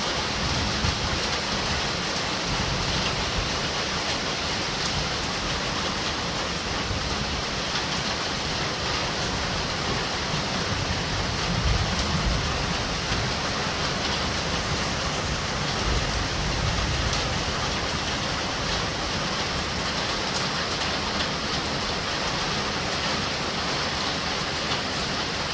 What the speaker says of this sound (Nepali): हावा पानी एकसाथमा आइरहेको छ